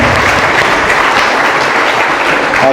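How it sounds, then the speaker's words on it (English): Loud, close, continuous applause from a large audience at a university student association inauguration ceremony, a dense wash of clapping with no talk. "Let's give an applause for them."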